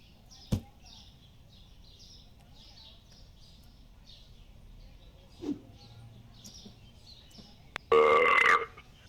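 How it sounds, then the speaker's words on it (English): A loud, brief burp near the end, about a second long and close, following quiet game audio with faint chirps and a couple of small clicks earlier. "Thank you for that burp."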